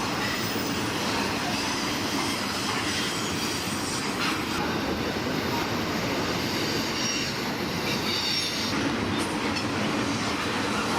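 A train rolls steadily past on a railway beside a lake, with continuous rumble, clickety-clack of wheels and faint squealing, fairly close and loud throughout with no talk.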